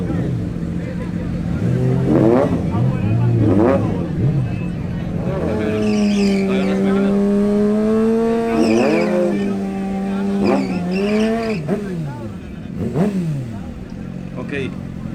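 Suzuki GSX-R600 and Suzuki GSR750 motorcycles drag racing, engines revving hard through rising and falling gear changes as they accelerate and pass close by, with loud mechanical whine throughout and people talking over it.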